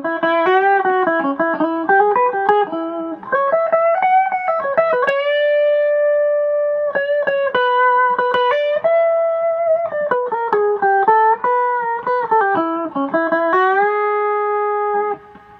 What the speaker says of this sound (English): I have melody with a very much distorted sound